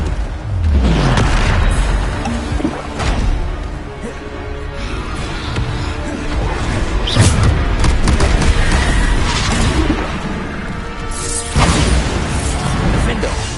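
In Hogwarts Legacy, Bombarda spell explosions go off as repeated deep booms and crashing impacts. They come in bursts over a busy battle mix, with a voice speaking at times.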